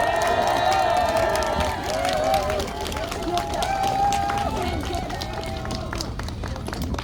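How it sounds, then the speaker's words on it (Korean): Large outdoor crowd at a Korean election campaign rally by Mucheon stream in Cheongju, applauding and cheering loudly and continuously, with whistles and voices mixed into a dense roar that stays steady throughout. "큰 박수로 말씀을 듣도록 하겠습니다."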